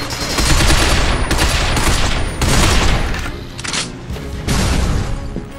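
Dense, loud gunfire in the video game Binary Domain, including a headshot: a steady barrage of sharp, overlapping shots with a few brief lulls, close and continuous.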